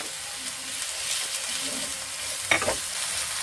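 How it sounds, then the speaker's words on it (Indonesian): Onion and garlic sautéing in ghee: a steady close sizzle and crackle with faint stirring, broken by one brief clatter of a utensil partway through. "bombay dan bawang putih, kemudian tumis sampai harum"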